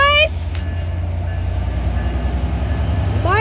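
A former Amtrak locomotive running as Metra 86 rumbles past close by, a loud, steady low-frequency roar sustained throughout with horn-like tonal blasts at the start and end, and a voice speaking under it.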